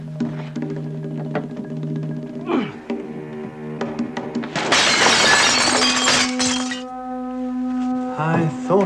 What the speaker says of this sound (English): Forcing the frosted glass door was a ridiculously simple matter